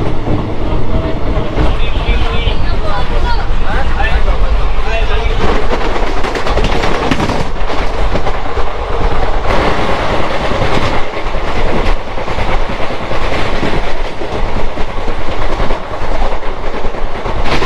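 Howrah–Digha Tamralipta Express passing close by at speed near Uluberia, a loud, continuous roar of wheels and carriages with rhythmic clickety-clack running throughout, no voices.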